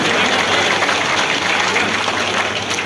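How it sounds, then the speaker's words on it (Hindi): Loud, dense applause from a large crowd at an election rally in Poonch, steady and unbroken throughout. "जोरदार तालियों से उनका भी स्वागत करें"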